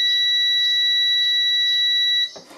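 A multimeter's continuity test beeps on car wiring with a loud, steady, high-pitched electronic tone held for about two seconds, then abruptly cut off.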